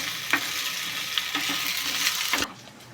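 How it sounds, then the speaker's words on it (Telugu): Ginger paste sizzles while frying in a pan, with a spoon scraping and stirring in several distinct strokes before the hiss drops off near the end. "అల్లం పేస్ట్ వేగింది కదా ఇప్పుడు"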